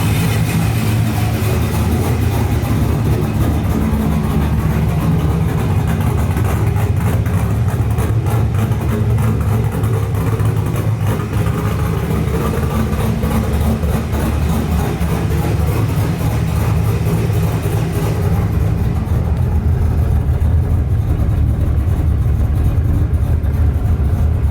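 A Toyota Cressida with a swapped-in LS V8 idles steadily on its first start-up, a loud, continuous low rumble running unbroken throughout, with no talk.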